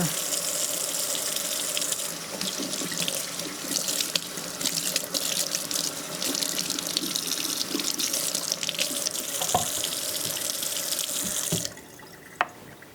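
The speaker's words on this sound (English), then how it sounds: "And just rinse it off, get that loose skin off of there." Running water pours steadily from a sink tap as raw chicken is rinsed beneath it, a continuous close splashing hiss that stops abruptly near the end.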